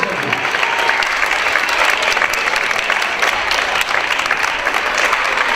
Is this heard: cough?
no